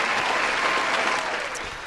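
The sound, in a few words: podcast hosts clapping for Rhonda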